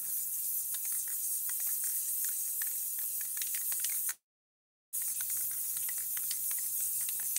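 An aerosol can sprays paint onto a rolling tray in steady hissing bursts, broken by a short pause before the spraying resumes, close and fairly quiet with no talk.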